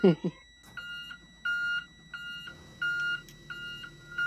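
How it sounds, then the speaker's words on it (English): A school bus backup alarm in the Rigs of Rods driving game, on a 2015 Thomas HDX CNG, beeps in a steady repeating rhythm of tonal pulses after a brief voice at the start. "I'm actually just doing this just so I can hear my backup alarm"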